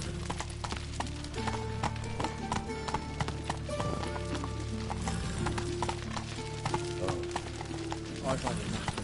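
Roach the horse gallops through a video game world, steady clip-clop hoofbeats running under layered game music and effects, with a faint whinny possible.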